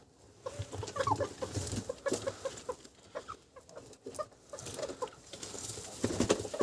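A hen clucking in a backyard poultry area during evening chores, with soft repeated clucks and murmurs over steady rustling and farmyard background, fairly close and moderately quiet.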